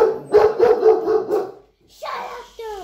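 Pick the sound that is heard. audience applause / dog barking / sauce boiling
dog barking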